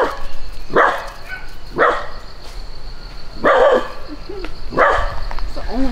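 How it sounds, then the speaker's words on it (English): A catch dog barks at animals near newly hatched chicks. Four separate, fairly loud barks come at roughly one-second intervals over a quiet outdoor background. "It's the only time he barks."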